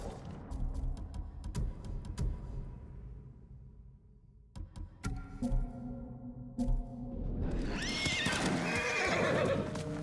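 Horses in the video game Ghost of Tsushima give a loud whinny, followed by scattered hoof clip-clops and snorts, then a rising wash of game ambience near the end.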